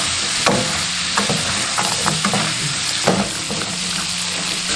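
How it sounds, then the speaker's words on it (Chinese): Pork ribs stir-fry over high heat with green pepper and garlic, a loud crackling sizzle broken by scattered spatula scrapes and knocks against the pan. "然后开大火炒3分"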